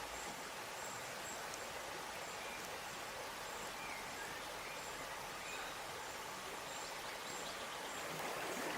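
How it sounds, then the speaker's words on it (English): Steady broadband water rush of a shallow stream flowing over stones, continuous and even, with no voices. "He wades into the shallow stream."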